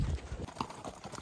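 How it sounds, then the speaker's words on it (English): Horse hooves clip-clopping along a mountain trail during an elk hunting pack trip, a few close, uneven hoofbeats on hard ground. "And as always, got my trusty riding horse Dakota, my main man."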